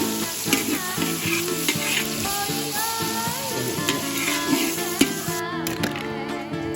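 Fried rice sizzles and fries in a pan over a wood fire while a utensil stirs and scrapes repeatedly, with clinks and a steady crackling background.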